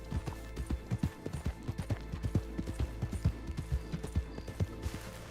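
Horse hooves clip-clop in a steady, even rhythm, each hoof strike crisp and fairly close, carrying on for several seconds with no talking over them.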